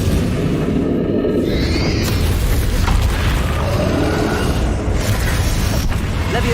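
Bombarda explosion spells in the Hogwarts Legacy video game: loud continuous booming and mechanical crashing, dense and close, with creaks and rumbling impacts running throughout.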